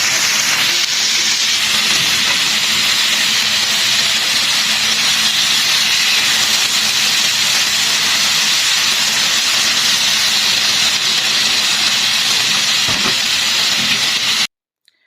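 Sliced onions and peppers sizzle loudly in a hot pan for shawarma, a dense, steady hiss that holds for about fourteen seconds before cutting off abruptly.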